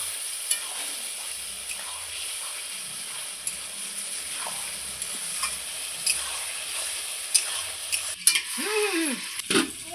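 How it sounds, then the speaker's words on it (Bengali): Quiet, continuous sizzle of duck egg curry frying in a pan, then louder scraping and stirring strokes near the end as the spoon moves through the oil and gravy. "আমি ঢাকা খুলে আবারও নাড়ে দিচ্ছি খুব সুন্দর করে"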